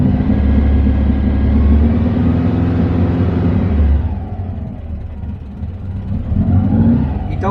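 A Volkswagen Fusca engine revs loudly and steadily for several seconds, then drops back toward idle before rising again.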